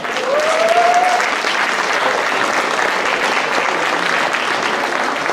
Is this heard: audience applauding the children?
yes